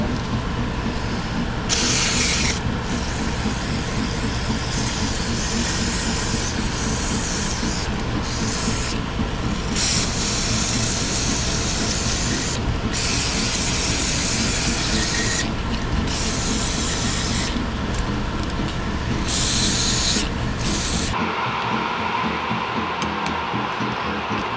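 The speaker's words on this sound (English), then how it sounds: "I want to spray this all down real good with carburetor spray first." Carburetor cleaner sprayed from an aerosol can onto a lawn mower carburetor, heard as long, loud, hissing bursts that start and stop repeatedly, close up, with no talking.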